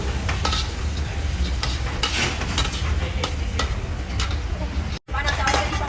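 Continuous loud sizzling and scraping as leftover fish fried rice (nasi goreng) is stirred in a hot pan, with a spatula clattering rhythmically through the steady frying hiss.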